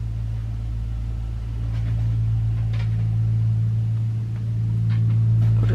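A small two-seater utility cart passes nearby with a steady, low motor hum, like a lawnmower. The hum swells slightly as it goes by, and faint knocks sound above it.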